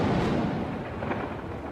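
Thunder rolls over the monsoon country of Kakadu as a storm arrives, a deep continuous rumble that stays loud and fairly steady throughout, with no voices.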